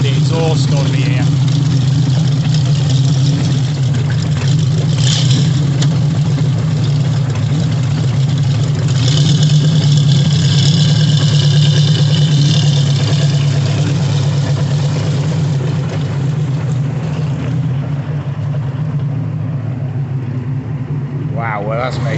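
The Napier-Railton's W12 engine idles close by at the Brooklands track, a deep, steady, unbroken rumble that holds for over twenty seconds with slight swells in loudness.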